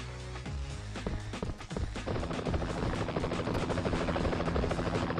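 A rescue helicopter in the mobile shooter Fatal Raid whirs steadily with a rapid rotor chop, mixed with scattered game gunfire and impacts early on, loud and continuous with no voices.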